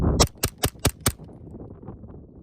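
Five sharp gunshots through an inexpensive suppressor fire in a quick, even rhythm outdoors, each a loud crack with a short tail, followed by quiet ringing and faint rumble.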